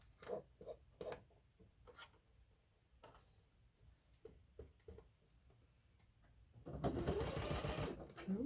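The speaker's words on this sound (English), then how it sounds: "The more slow I sew, the more accurate I am. So I'm sewing very slowly." A sewing machine stitches slowly, with scattered close needle taps ending in a longer, denser run of stitching. No one speaks.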